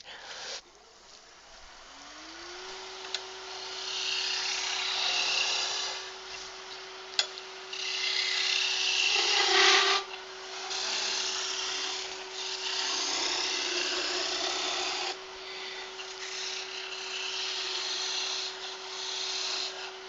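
Skew chisel cutting wood on a lathe, a steady rushing, rasping shave over the constant hum of the spinning machine, with brief pauses and clicks between cuts, close and fairly loud.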